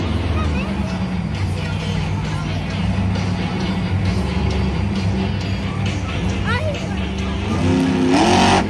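A monster truck engine roars steadily through a Monster Jam run at an arena show in Denver, Colorado, loud and continuous under crowd hubbub and babble, swelling toward the end.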